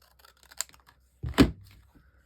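Scissors snip through paper in one quick, close cut, preceded by a few faint taps and rustles in an otherwise quiet room.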